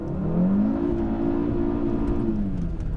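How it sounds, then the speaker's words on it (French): The five-cylinder engine of a Cupra Formentor VZ5 pulls hard under acceleration, a loud, steady throaty drone whose pitch climbs and holds before easing slightly near the end. "ça permet en tout cas pour nous d'apprécier d'une part la sonorité du 5 cylindres"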